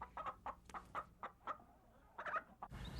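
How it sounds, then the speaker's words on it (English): Chickens in a muddy farmyard cluck in a series of short, close, rhythmic calls, with a brief louder flurry of clucking near the end. "a muddy yard that was host to several"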